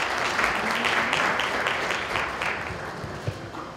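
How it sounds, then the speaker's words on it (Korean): Audience applause at a Korean economic forum session, welcoming the head of Merck Korea to the podium; steady, dense clapping from a sizeable crowd that tapers slightly toward the end. "큰 박수로 맞아주시기 바랍니다."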